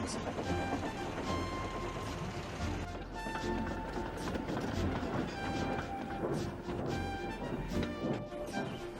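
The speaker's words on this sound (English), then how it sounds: "a diesel from the other railway took the train on" A diesel train departs along the rails with a continuous rolling roar, metallic clicks and squeals rising over it, fairly close and loud throughout.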